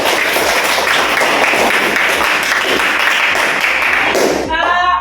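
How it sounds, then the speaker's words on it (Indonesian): Classroom applause from students, loud dense clapping that continues steadily for about four seconds before breaking off abruptly, with a short burst of another sound at the very end. "Tepuk tangan sekali lagi."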